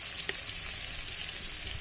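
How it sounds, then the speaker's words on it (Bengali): Small cut potato pieces fry in hot oil with a faint, even hiss and sizzle, crackling softly and steadily without any talking. "আলুগুলো ভালো করে ভাজা হয়ে গেছে"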